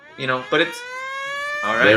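A breaking-news siren sound effect gives a few short rising blasts, then a sustained wailing tone, loud and close, with a voice speaking briefly over the start.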